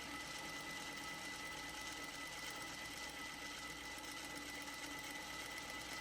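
A sewing machine runs steadily through the whole stretch while N95 masks are stitched, a dense continuous whir at constant loudness with no talking.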